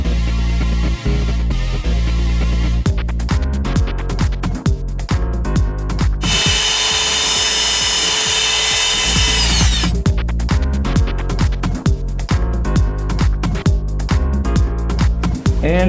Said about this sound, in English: And you hear that screw doing its work, eh?